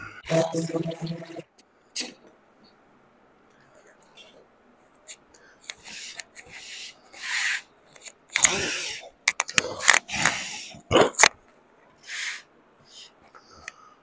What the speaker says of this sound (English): we'll just go back to this guy here and sand down what I just messed up.